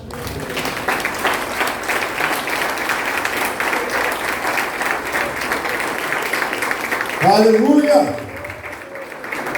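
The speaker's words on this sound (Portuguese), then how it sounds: "Você pode aplaudir a palavra do Senhor." A church congregation applauds in a sustained, dense wave of clapping, with someone shouting a praise exclamation near the end as the clapping continues.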